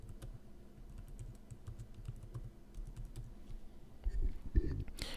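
Someone types a password on a computer keyboard, a quiet run of close, irregular key clicks, ending with a few louder taps and a brief rustle.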